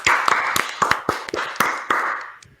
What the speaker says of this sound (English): let's just give a big round of applause to everyone who's going to be on the show